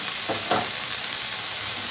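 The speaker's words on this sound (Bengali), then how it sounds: "গাজর আলু দুটো একসাথে এবার ভেজে নেব" Diced carrot and potato fry together in a pan over a low flame, a steady close sizzle with a couple of soft utensil stirs in the first half; no talking.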